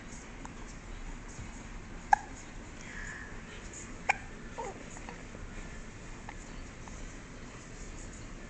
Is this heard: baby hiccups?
yes